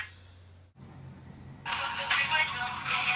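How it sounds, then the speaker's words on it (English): A phone callback ringtone plays faintly at first, then a brighter, louder tonal ring starts partway through and continues steadily to the end. "She's got the callback ringtone."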